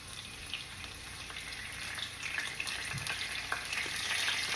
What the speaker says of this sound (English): We're going to saute those peppers and those onions together.